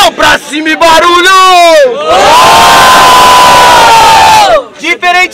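Loud crowd roaring and cheering at a Brazilian rap battle, a sustained wall of whoops and shouts lasting several seconds, framed by brief excited shouting before and after.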